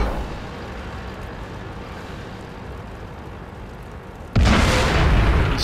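A tank cannon firing in the World of Tanks video game during a Clan Wars battle, a single loud sudden blast near the end following a steady low rumble of engine and ambient battle noise.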